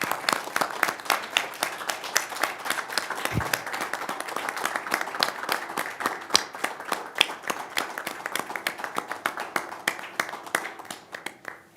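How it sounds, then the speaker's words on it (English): Applause from people at a city council meeting, a steady patter of many hands that holds for about twelve seconds, then thins toward the end. "let's give him a round of applause"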